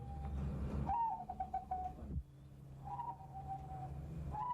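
Doves bred by the Jawi of Southern Thailand give deep cooing calls, two phrases, each a low throaty burst trailing into a held hum, with quieter rustling between them.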